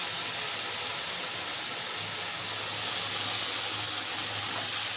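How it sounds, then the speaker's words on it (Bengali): Small shrimp frying in a pan over a high gas flame, giving a steady, loud broadband hiss and sizzle that holds evenly throughout without pause. "গ্যাসের ফ্লেম হাই করে দিয়েই চিংড়ি মাছগুলো আমি ভেজে নিচ্ছি।"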